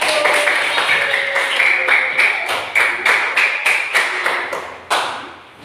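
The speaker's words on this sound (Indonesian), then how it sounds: "beri tepuk tangan untuk kelompok 1" Applause for a student group after a classroom presentation, a run of sharp percussive claps in quick succession with sudden bursts and decays, moderately loud and close.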